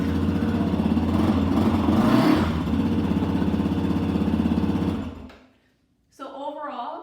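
A 2018 Yamaha XT250 motorcycle engine runs at a steady, close idle with a rough, even chug for about five seconds, then cuts off into silence before a voice speaks.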